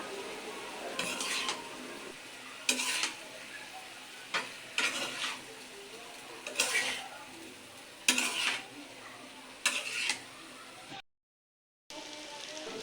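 Potatoes stir-fried in a pan, heard as a quiet steady sizzle with a spatula scraping and clinking against the metal in bursts roughly every second or two, then a brief cut to silence.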